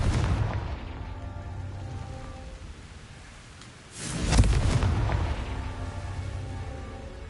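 Confringo fire spell blasting in Hogwarts Legacy, a heavy boom that swells midway through amid ongoing game noise, with a rumbling tail that lingers loud to the end.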